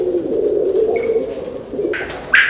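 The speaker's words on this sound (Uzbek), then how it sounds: "Hamma joyi o'ziga yarashgan kaptar." Pigeon cooing close by, a low steady rolling coo running through the whole stretch, with a couple of brief sharper chirps from other birds near the end; no one talks.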